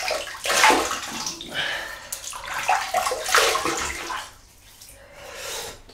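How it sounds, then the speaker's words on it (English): Water splashing and sloshing in bursts as hands wet a face before a shave with an Edwin Jagger DE89 safety razor, close and fairly loud, with quieter dripping between splashes. "first I'll just wet the face"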